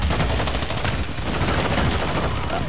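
Sustained heavy automatic gunfire from a VTOL aircraft in Call of Duty Modern Warfare II, a dense unbroken rattle of rapid shots that stays loud and close throughout.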